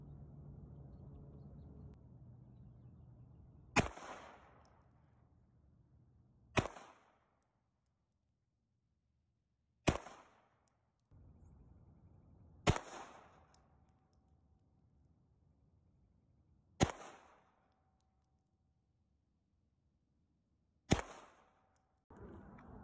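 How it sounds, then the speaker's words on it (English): Six sharp pistol shots from a custom Glock with a KKM barrel and a Zev OZ9 pistol fired at 15 yards, spaced a few seconds apart, each a loud crack with a short ringing tail over a quiet outdoor range. "we're going to shoot 3 different kind of ammos at 15 yards"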